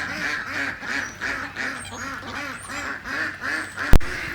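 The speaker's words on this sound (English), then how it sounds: "what do you think about those ducks?" Ducks quacking in a snowy Texas winter setting, a steady run of close, rhythmic quacks repeating about every half second, with a brief sharp knock near the end.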